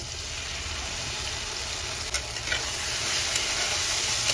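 Green chili, poppy seed and cashew paste goes into a hot pan for a catla fish curry, a steady close sizzle with a few soft scrapes and bumps as it is stirred, no voices.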